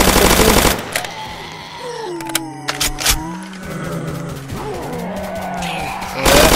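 M16 rifle fire in the Roblox game Zombie Uprising, loud bursts at the start and end framing scattered sharp shots, squealing and skidding game effects in between.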